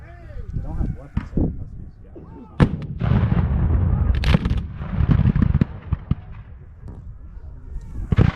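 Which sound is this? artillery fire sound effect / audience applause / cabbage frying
artillery fire sound effect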